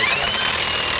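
An impact gun with a 22 mm socket hammers bolts tight on a 2014 Nissan Altima suspension, giving a short, loud, rapid rattling burst up close.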